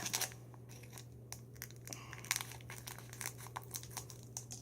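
Crisp plastic packaging crinkles and rustles as scissors open it, in a steady run of close, quiet crackles and snips over a low constant hum, with no one speaking.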